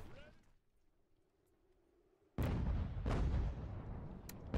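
A massed musket volley from troops firing at a fort wall in Ultimate General: American Revolution erupts suddenly after a quieter stretch with speech, followed by rolling crackling shots and booms.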